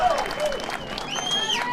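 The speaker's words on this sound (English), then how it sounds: "now he's got the crowd amped even more" A crowd at a pickleball tournament applauds and cheers in a short, lively burst, with a commentator talking over it.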